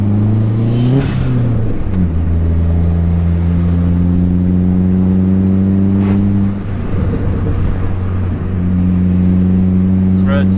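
A four-cylinder car fitted with a 3.5-inch exhaust accelerates through the gears, its loud droning engine note climbing in pitch with each pull and dropping at the shifts, heard close from inside the car.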